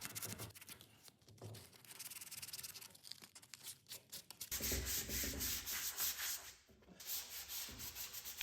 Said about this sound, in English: I'm sure you guys are probably getting tired of watching me sand